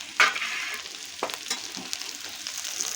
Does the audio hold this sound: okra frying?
yes